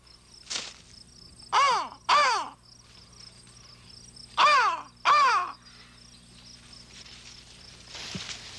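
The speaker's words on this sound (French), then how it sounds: "ça devait être une corneille que j'ai entendue" A crow caws several times, mostly in pairs of harsh calls with pauses between, moderately near against a quiet outdoor background with faint insect hum.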